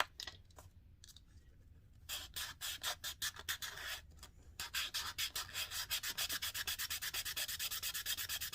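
The flat base of a chess piece is rubbed back and forth on sandpaper in faint, rhythmic scraping strokes that start slowly and become quicker and more even.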